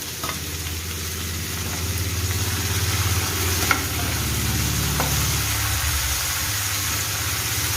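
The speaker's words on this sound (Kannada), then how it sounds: "ಇದಕ್ಕೆ ನಾನೀಗ ಸಣ್ಣಗೆ ಕಟ್ ಮಾಡಿಕೊಂಡಿರುವಂಥ ಮೆಂತ್ಯ ಪಲ್ಯನ ಹಾಕ್ತಾ ಇದ್ದೇನೆ." Finely chopped fenugreek leaves stir-frying in a pan for a dry methi dish, a steady close sizzle with occasional soft scraping stirs and a low background hum, no talking.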